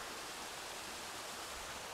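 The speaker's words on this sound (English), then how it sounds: "I have to cross the river right here." A river in rural Saitama, Japan, rushes past as a steady, close, full hiss of flowing water that holds an even level throughout with no voices.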